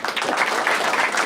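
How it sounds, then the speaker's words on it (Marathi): Loud, steady applause from a stand-up comedy audience in a Marathi crowd-work show, dense clapping filling the short moment without a break. "एकदा जोरदार टाळ्या वाजवा"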